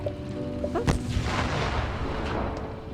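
A tank cannon fires in an online tank video game, one sharp loud boom with a rumbling tail, set against steady engine drone and faint background game noise.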